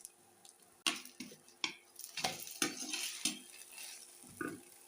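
An egg paratha frying in a little oil on a pan makes a soft sizzle, broken by several sharp scrapes and clinks of a utensil turning it, close and fairly quiet.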